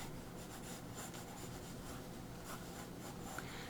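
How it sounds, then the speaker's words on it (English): Quiet, continuous scratching of a drawing tool on paper as a pose is sketched loosely by hand with art supplies, faint and close with no voices. "Okay, so start sketching this pose."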